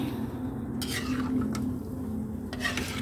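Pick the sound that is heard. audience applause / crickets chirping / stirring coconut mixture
stirring coconut mixture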